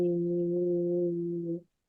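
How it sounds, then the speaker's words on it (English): A low, steady voiced 'voo' hum made deep from the diaphragm in a register below the speaking voice, held as one sustained tone for about a second and a half before stopping. "So when we make that vibrational sound in a low register, lower than our speaking voice"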